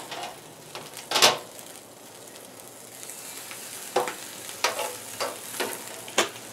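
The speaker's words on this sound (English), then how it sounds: "I just need to sear these steaks" Dry-aged wagyu striploin steaks sear in a hot pan under a low, constant sizzle. Sharp metallic clanks and scrapes land near the start and again in a quick cluster toward the end.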